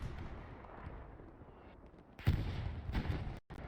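Artillery shells falling in a World War II multiplayer battle game at Sainte-Marie-du-Mont, a low distant rumble of fire followed by a sharper, louder impact burst and echoing crumps, cutting off abruptly near the end.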